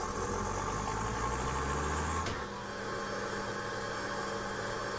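A baler's engine in Farming Simulator 2013 turns over with difficulty, a steady low mechanical drone running for about two seconds before cutting out abruptly, followed by a quieter background hum.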